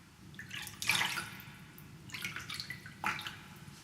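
Water drops fall one at a time in slow, uneven rhythm, three soft splashy drips spaced about a second apart over a quiet, low background hum, with no voices.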